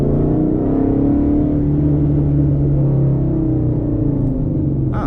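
Mustang GT 5.0 with a ghost cam and Lund Racing tune revs and pulls in traffic, a loud, steady throaty engine drone with a slowly shifting pitch that stays close and unbroken, with no pops audible.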